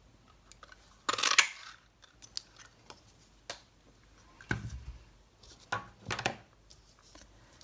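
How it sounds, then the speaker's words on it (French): A paper label being cut out with a label punch, heard as several sharp, close crunching snips and clicks separated by short pauses, with no talking. "avec mon étiquette, ma perforatrice étiquette, je vais venir le découper."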